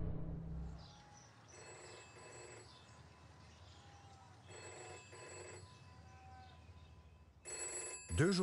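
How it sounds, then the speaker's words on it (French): A telephone rings in repeated double-burst cadences separated by quiet pauses, three rounds of moderately loud trilling bells with no voices. "Deux jours plus tard, sa secrétaire lui téléphone."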